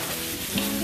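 Food frying in a pan over medium heat for chicken and rice, a steady soft sizzle that continues evenly throughout the short moment with no talking.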